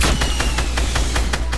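Rapid repeated gunfire in a video game, a steady string of evenly spaced shots about every fifth of a second, loud and continuous throughout with no voices over it.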